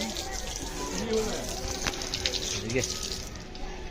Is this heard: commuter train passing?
no